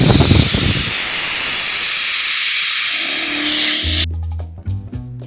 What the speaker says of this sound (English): my air gun decided to blow a